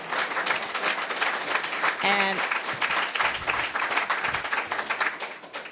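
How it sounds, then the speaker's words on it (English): Sustained applause from an evening audience at a public panel on renter protections, many hands clapping in a dense steady wash, with a brief tonal beep early on and faint voices underneath. "I want to thank them with a round of applause, please"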